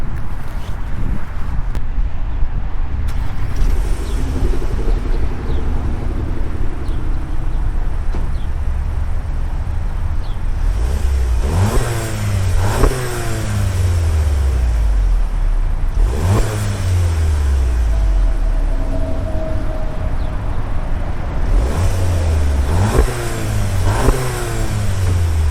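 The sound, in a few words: 2023 Volkswagen Jetta GLI Autobahn accelerating on a drive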